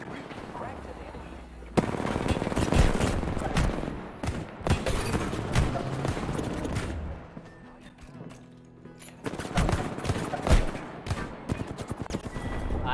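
Dense bursts of rapid gunfire in a shooter video game, close and loud, with rattling volleys and single cracks over thirteen seconds, pausing briefly in the middle before resuming; game voices speak over the shots.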